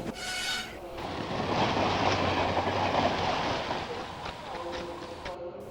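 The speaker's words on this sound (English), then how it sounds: "James shunted Sheffield towards the out-of-use siding" Train cars being shunted onto a disused siding, a steady rolling rumble with faint clicking and squeal building through the middle, all under narration and a soft music bed.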